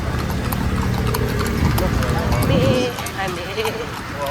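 Horses clip-clop through the old walled district of Intramuros in Manila, a steady near hoof rhythm on pavement running under continuous talk from people nearby.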